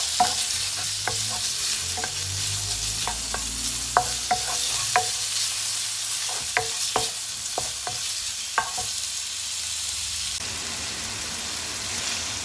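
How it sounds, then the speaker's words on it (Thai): Pork belly stir-fried in an old, slightly sticking wok to render its fat, with a spatula scraping and clinking in irregular strikes over a steady, close sizzle. "ผัดต่อไป"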